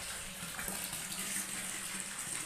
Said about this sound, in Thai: ตัวนี้จะเป็นที่กำลันเกิดน้ำไหลก็คือน้ำเป็นระบบน้ำเติมที่มาจาก น้ำประปาของบ้าน